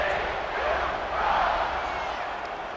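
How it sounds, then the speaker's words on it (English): A football stadium crowd buzzes with a steady roar of many voices, loud and continuous, with faint cheering rising and falling inside it. "this crowd is buzzing after that last score"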